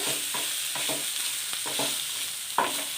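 Ivy gourd curry frying slowly over low heat, a steady soft sizzle broken by several spoon stirs and scrapes against the pan, with one sharper clink near the end; no voices.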